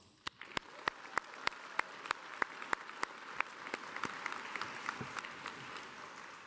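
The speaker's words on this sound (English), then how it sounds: "let's start by giving yourselves a round of applause" Graduation ceremony audience in London applauds itself, a moderately distant crowd clapping with a few sharp, regular nearby claps standing out above the steady patter.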